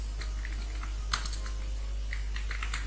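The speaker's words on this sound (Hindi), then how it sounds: "अब मैं यहाँ पे टाइप करता हूँ" Computer keyboard typing during data entry in Microsoft Excel, a quiet scatter of light key clicks with a brief louder cluster in the middle, heard close over a steady low electrical hum with no talk.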